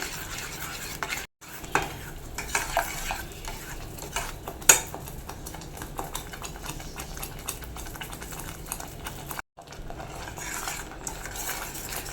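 A utensil stirs tomato and onion chutney in a hot pan, making repeated close scraping and clinking strokes over a soft, constant sizzle. The stirring stops briefly twice, and no one speaks.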